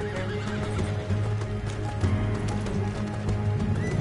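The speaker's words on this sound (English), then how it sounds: "Let's get to those horses, Morgan!" Horses in Red Dead Redemption 2 whinny and neigh while hooves clip-clop at a gallop, loud and steady over dense game sound with music, no talk.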